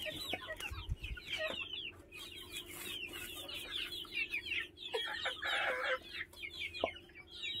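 Local chickens on a small poultry farm set behind netting, several hens clucking and calling in overlapping bursts, close and fairly loud, with a brief crowing note and no one speaking.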